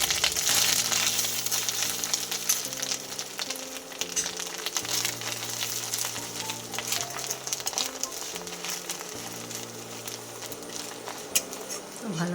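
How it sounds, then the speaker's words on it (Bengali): Grated coconut fries in a hot pan with cloves for a vegetarian banana-flower dish, giving a steady soft sizzle with occasional stirring scrapes, while a low tonal hum runs underneath. "নারকেল কুড়োটা দিয়ে ভালো করে ভেজে নেব।"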